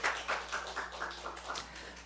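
A church congregation at a Korean morning worship service claps in a quick, even rhythm of crisp hand strikes, fairly soft and roomy, lasting about two seconds with no voices over it.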